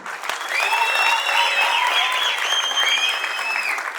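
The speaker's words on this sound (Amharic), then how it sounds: "አጨብጭቡላቸው።" Audience at an Amharic film premiere bursting into loud, sustained applause, a dense clapping wash that holds steady for several seconds with faint crowd voices mixed in.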